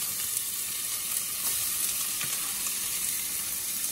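Chopped onion ends tossed into a finger of hot oil in a pan, sizzling loudly and steadily up close with constant fine crackle.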